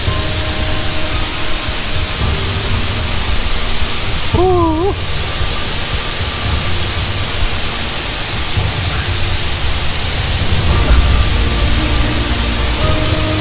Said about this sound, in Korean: 조금만 더 가면 수락폭포입니다